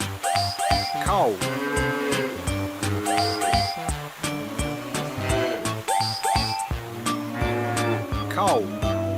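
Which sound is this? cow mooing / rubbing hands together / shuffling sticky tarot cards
cow mooing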